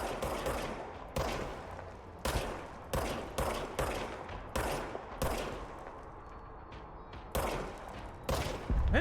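Gunshots in the video game Control, about a dozen sharp, loud single blasts fired at irregular intervals, each with a short decaying tail, standing alone without talk.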